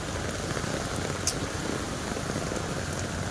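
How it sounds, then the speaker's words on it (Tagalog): Steady rain pours down during a storm, a continuous dense hiss with scattered drops striking a nearby surface. "malakas po ng ulan dito"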